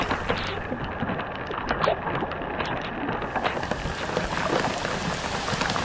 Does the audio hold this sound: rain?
yes